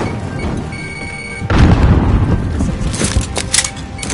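A frag grenade explodes in Call of Duty: Warzone with a sudden loud, close boom that leaves a rumbling, crackling tail over ongoing battle noise.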